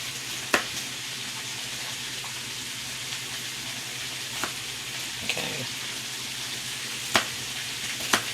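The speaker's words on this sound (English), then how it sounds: "While that meat is browning and we're getting a little burn on it" Ground meat browning and sizzling in a pan for baked spaghetti, a steady soft fry with a few sharp clicks of utensils scraping the pan, no talking.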